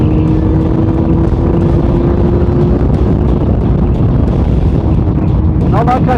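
A Honda CBF600S motorcycle rides along with its engine droning steadily under heavy, constant wind buffeting across the helmet microphone. A faint rising tone appears near the end.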